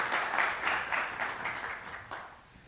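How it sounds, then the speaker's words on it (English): Audience at a conference session on Africa's fragility clapping for panelists and moderators, a modest, fairly quiet round of applause that tapers off over a few seconds. "Can you please give a round of applause for our panelists and moderators?"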